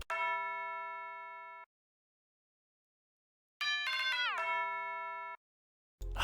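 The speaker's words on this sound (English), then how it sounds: "here's the bell" A bright, ringing synth bell from an FL Studio beat plays one sustained tone, then after a pause a quick run of bell notes that slide and fade, alone and clear.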